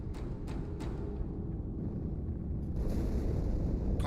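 A massive explosion tears through the ship Athens in Halo 2, a dense, low rumbling roar that swells and holds steady for several seconds, close and loud, with no voices.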